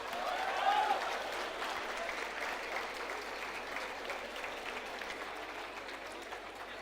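Convocation audience at an MBA graduation ceremony in Mumbai applauding continuously, a soft steady wash of many hands clapping heard from a distance in a large hall.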